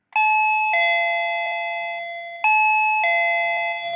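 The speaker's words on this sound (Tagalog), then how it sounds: "Sa totoo lang nabibingi ako dito sa doorbell na to." A shop's electronic doorbell chimes loudly twice, each ring a clear two-tone ding-dong with long sustained ringing tails, close and alone with no talking.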